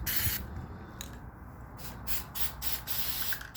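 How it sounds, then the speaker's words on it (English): Flex Seal sprays from an aerosol can onto the sides of emergency strobe lights in a series of short, close hissing bursts separated by brief pauses. "I always spray the sides too,"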